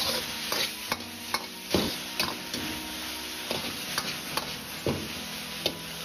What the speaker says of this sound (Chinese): 再次翻炒几下。